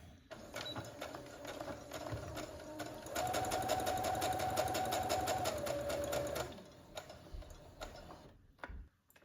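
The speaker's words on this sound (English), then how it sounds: "So I'm going to sew up to the point of my interfacing" A sewing machine stitches along a button-up Oxford shirt collar, its rapid even ticking whir running steadily for a few seconds and then stopping, close and fairly quiet, with no talking.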